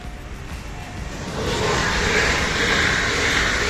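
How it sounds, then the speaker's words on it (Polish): A train passing at a railway line, a broad rushing rumble that swells after the first second and stays loud and steady to the end, with no talk over it. "Jedzie pociąg?"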